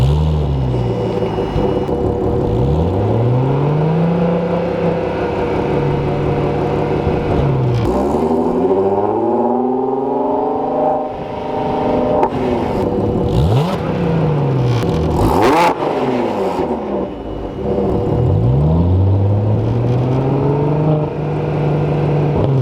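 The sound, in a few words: loud car exhaust revving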